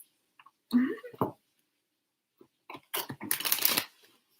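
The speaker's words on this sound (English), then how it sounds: "Okay, one more shuffle." Tarot cards riffle and shuffle in a quick papery burst near the end, after a faint voice and a few soft handling clicks in a quiet room.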